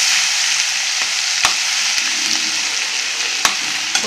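Ginger, crushed green chilli, peas, carrot, potato and cabbage fry in ghee with a steady, bright sizzle. Occasional sharp clicks of stirring punctuate it. No one speaks.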